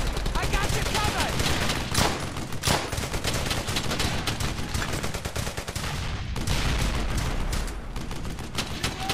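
Sustained machine-gun fire from the World War II shooter game Brothers in Arms: Hell's Highway: dense, loud volleys hammer almost nonstop, with a brief break before the shooting resumes.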